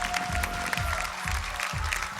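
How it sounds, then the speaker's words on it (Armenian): Audience applause fills an X Factor talent show studio, a steady patter of clapping blended with pulsing background music over a couple of seconds. "Պատրաստ ենք բոլորս ծափահարություններով։"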